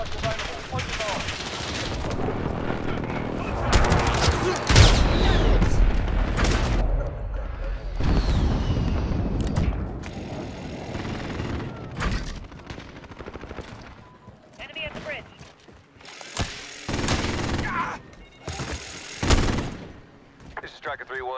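Precision airstrike explosions and heavy gunfire in a video game battle: loud, dense bursts of rapid shots and booming blasts that continue almost without pause, then break into shorter, separated volleys toward the end.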